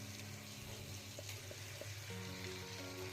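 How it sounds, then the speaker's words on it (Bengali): Ground spinach and green chili paste hitting well-cooked masala in a pan for spinach chicken, producing a steady close sizzle with faint stirring and a brief clink. "এবারে দেবো পিসে রাখা পালংটা।"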